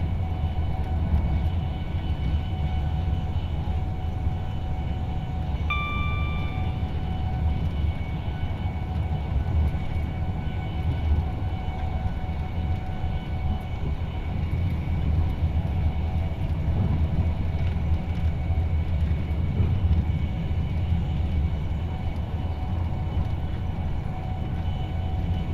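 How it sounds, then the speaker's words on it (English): Steady low rumble of a Class 390 Pendolino running along the West Coast Main Line through the Wolverhampton curve in Train Simulator, a continuous even drone with a brief faint tonal chime partway through, no voices. "Wolverhampton curve, quite an impressive curve as you can kind of experience the tilt of the Pendolinos here"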